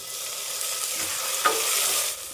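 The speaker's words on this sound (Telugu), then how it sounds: "టమాటా కొంచెం మగ్గేంత వరకు వేయించుకోవాలి" Onions, mint and chopped tomato frying for a pressure-cooker chicken pulao, a close, steady sizzle with a stirring scrape midway, brief and continuous with no voices.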